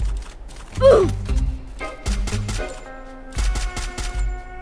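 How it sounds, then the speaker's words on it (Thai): An M14 rifle fires in a video game: a few loud, sharp shots separated by pauses, each with a short echo tail, over quiet game ambience. "M14 มันก็ยิงดีนะฮะถ้ามีคนเดียว"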